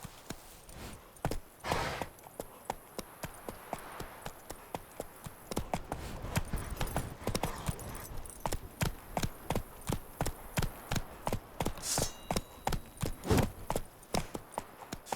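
Roach the horse gallops in The Witcher 3, steady rhythmic clip-clop of hooves pounding continuously, close and moderately loud with no talking.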